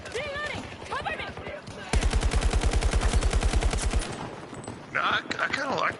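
Rapid automatic gunfire from a weapon in Battlefield 2042 on PS5, a loud burst of about two seconds of evenly spaced shots, with game voices and effects before and after.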